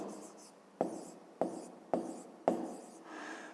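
A pen writes an answer by hand on paper, a surname for a school maths exercise, in several quick scratchy strokes that each start sharply and then fade, close and fairly quiet with no talking.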